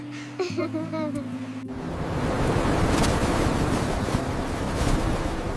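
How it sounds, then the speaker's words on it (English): Strong gusting wind buffets the microphone on a beach, a loud continuous roar rising after a brief stretch of music at the start, with surf blended into the rushing noise. "The wind is very strong suddenly."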